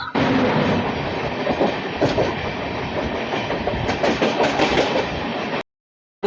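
The Chennai–Howrah Mail runs on rails with a loud, steady rumble and rhythmic clickety-clack of wheels over joints, heard close up before cutting off abruptly near the end.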